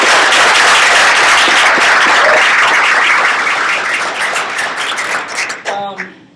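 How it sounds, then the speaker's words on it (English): An audience at a graduation event applauds loudly with dense, sustained clapping that thins and fades out toward the end. "let's give a big round of applause."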